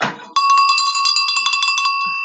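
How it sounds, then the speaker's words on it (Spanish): A bright metallic bell rings out after a brief rustle, sustaining a clear ringing tone with repeated rapid strikes layered over it before fading slightly toward the end. "El loco de la campana. Ah, talán, talán, talán."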